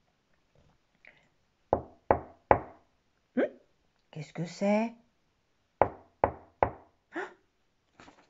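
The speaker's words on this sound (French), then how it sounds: "Ça frappe à la porte." Knocking on a witch's door comes in two groups of three or four sharp raps. A voice speaks in the pause between them.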